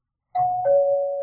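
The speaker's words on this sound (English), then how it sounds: "somebody's ringing a doorbell" A doorbell rings with a clear two-tone ding-dong, a higher chime dropping to a lower sustained note after a short silence, close and alone.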